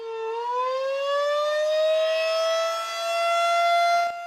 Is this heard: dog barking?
no